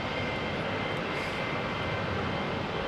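Aircraft engines roar steadily at Heathrow Airport, a loud continuous broadband rumble that fills the whole stretch with no pause.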